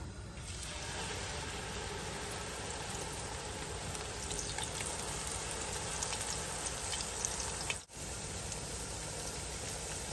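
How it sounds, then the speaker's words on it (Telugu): Ground onion paste frying in oil with cinnamon and spices for a fish curry, giving a faint continuous hissing sizzle with a brief dip near the end, no talk. "ఇప్పుడు ఉల్లిపాయలు గ్రైండ్ చేసుకున్న పేస్ట్ వేస్తున్నాను."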